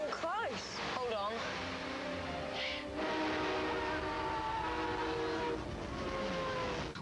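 A train horn blares over the steady rumble of rolling railway carriages in a Harry Potter film scene, the horn sounding loud and sustained as the train runs continuously, with voices heard over it.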